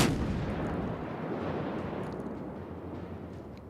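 Naval guns of the USS Helena, a Tier VII American light cruiser in World of Warships, fire a heavy, close boom that opens loud and then rolls into a long, fading rumble.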